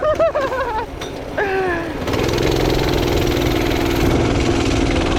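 A small minibike engine idles with a steady, rough putter after a few short revving blips at the start, close and fairly loud.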